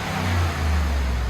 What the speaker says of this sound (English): that's him revving it all the way